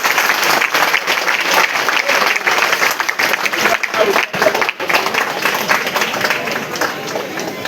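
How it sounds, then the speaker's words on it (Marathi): Loud, sustained clapping from a crowd at a Govinda troupe's T-shirt launch event, a thick continuous roar of hands with a brief dip midway before it picks up again. "जरा एकदा जोरात टाळ्या वाजवून"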